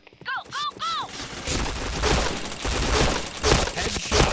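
Gunfire in the online shooter Point Blank: a few short electronic chirps, then dense, continuous volleys of shots crackling loudly for several seconds with no pauses.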